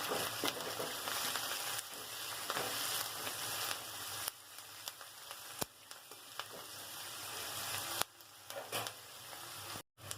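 Curry leaves frying in hot oil for tomato rice, a steady dense sizzle with a few sharp utensil clicks and brief dips near the end, heard alone.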